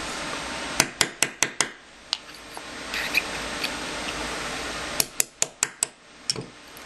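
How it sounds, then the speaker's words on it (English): A pin is tapped out of a Tanfoglio pistol's sear assembly with a punch, giving two quick bursts of five or six sharp metallic taps in steady rhythm, close and clear, with a few softer clicks between. "But then you just punch the pin out."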